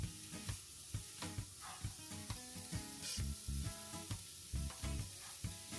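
Cauliflower rice with lemon and garlic sizzles in a pan: a close, steady frying hiss broken by regular scraping stirs, with no talking.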